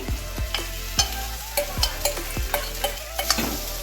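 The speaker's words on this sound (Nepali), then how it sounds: "एकछिन फ्राई गरिसकेपछि अब यसलाई चाहिँ हामी यहाँ राइस हाल्दैछौँ।" Rice with egg stir-fried in a pan, with sharp scraping strokes of a spatula striking the metal roughly every half second over a steady sizzle, close and fairly loud, no voices.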